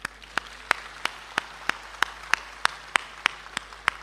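At an outdoor Hindi poetry recital (kavi sammelan), an audience claps in slow, even rhythm, with about a dozen sharp, distinct beats spaced roughly a third of a second apart over a soft background hum.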